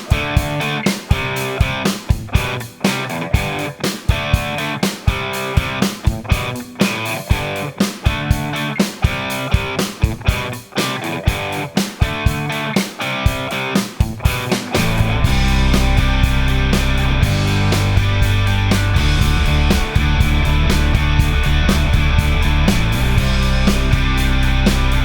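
Full-band rock mix with doubled crunchy electric guitars arranged in Logic Pro, rhythmic and punchy at first, then thickening into a wider, sustained distorted wall of guitar around the midpoint, loud and continuous with no talking.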